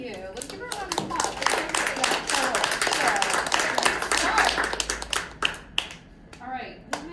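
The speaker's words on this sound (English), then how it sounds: "Let's give her a round of applause." Applause after a student's performance at a spring piano masterclass: a small audience claps briskly and steadily for several seconds, the individual hand claps fairly close, then thins out into a few scattered claps and brief voices.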